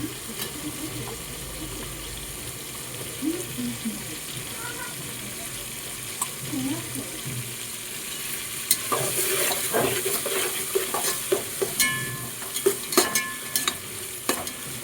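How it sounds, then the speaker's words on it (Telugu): Onions added to a pan and frying at home, a soft low sizzle with stirring scrapes, growing busier and crackling toward the end with sharp utensil clicks, under quiet background noise. "ఎర్రగడ్డలు వేస్తున్నాను."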